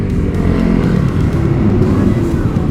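A motorcycle engine roars past on the road, a loud, continuous low rumble with wind noise, steady across the whole stretch and heard from close by.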